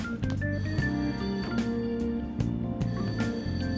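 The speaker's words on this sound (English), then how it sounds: "That ringing sound isn't coming from my cell phone. I hear it coming from downstairs." A telephone rings from downstairs in the video game Persona 5, its ringing tone set against a steady bed of game background music that plays continuously throughout, with no talk.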